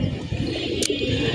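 Young pigeons coo in low, repeated throaty bursts close by, with one brief sharp rustle partway through.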